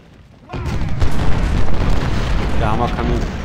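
Heavy booming blasts of cannon fire in the Civil War video game Ultimate General: Civil War erupt after a quiet start, rumbling continuously with a chaotic battle din.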